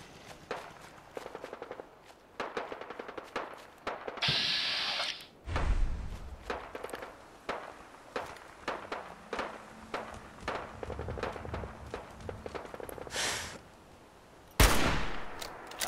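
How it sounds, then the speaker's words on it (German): Gunfire in Fallout 4, with bursts of rapid automatic shots and scattered single rounds going on throughout, a few louder close blasts and heavy thuds breaking in, loud and busy. "Geschossen, ich weiß nicht wo."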